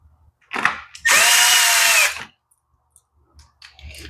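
A power drill drives bolts into a Yard Machines tiller, with a short whir, then one sustained loud high buzz lasting about a second, followed by faint clicks and handling noises.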